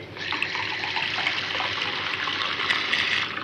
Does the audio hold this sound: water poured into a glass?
yes